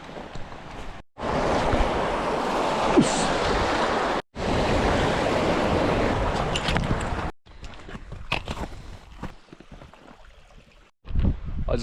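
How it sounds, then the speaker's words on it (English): A valley waterfall on the Tongariro track in New Zealand gives a steady rushing roar that breaks off abruptly a few times, then gives way to quieter outdoor noise with scattered footsteps. "The waterfall over there"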